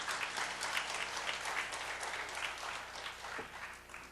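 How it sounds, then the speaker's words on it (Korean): Church congregation applauding during a mothers' prayer meeting, many hands clapping together in a lively, even patter that fades slightly toward the end, heard at moderate distance in a roomy space. "이때 박수 한번 치는 거예요."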